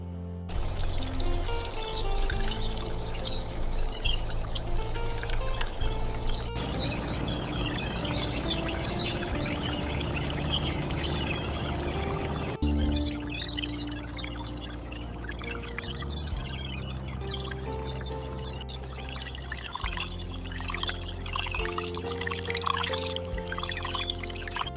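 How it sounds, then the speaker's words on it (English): Liquid marinade pours slowly over chicken pieces in a tiny outdoor village kitchen, a continuous trickle heard alongside birds chirping, with several cuts between takes. "Pouring it in slowly."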